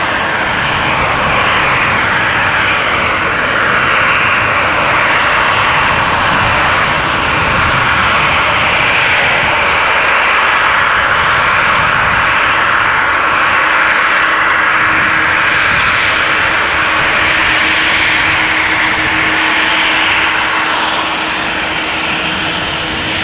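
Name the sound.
Embraer E2 jet departing Schiphol to Geneva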